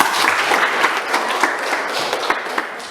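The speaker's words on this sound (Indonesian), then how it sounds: "tepuk tangan untuk Lastri." A classroom full of students clapping, dense steady applause at close range that tapers slightly toward the end.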